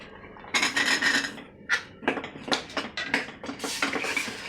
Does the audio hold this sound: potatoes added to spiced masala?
yes